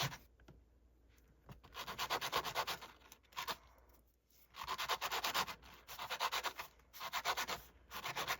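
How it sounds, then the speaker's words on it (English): Rough grit sandpaper on a block rubbing briskly over the sharp edges of a rustic wire heart, repeated bursts of scraping strokes with short pauses in between, close and fairly loud, no talking. "all I do is I just sand and get all the sharp little edges"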